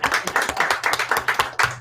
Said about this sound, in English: She got a bigger applause than we did